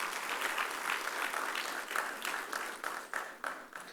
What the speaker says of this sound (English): Let us have a big round of applause for the speaker and all of us.